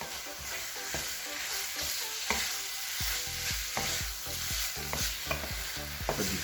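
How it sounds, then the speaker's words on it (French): A spoon stirring Japanese curry with tomato paste and broth in a hot pan, with repeated scraping strokes over a steady sizzle. "On mélange un peu. Jusqu'à ce qu'on voit plus le rouge de la sauce tomate."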